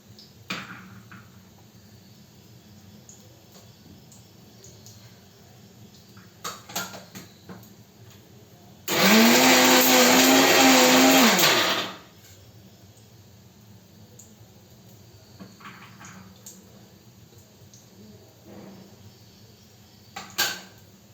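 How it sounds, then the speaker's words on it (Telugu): A mixer grinder blending fenugreek-leaf chutney roars loudly for about three seconds and then stops, surrounded by quiet clicks and handling sounds before and after. "ఇప్పుడు మనం దీన్ని కూడా మిక్సీలో వేసేసుకుని తిప్పేసుకుందాం."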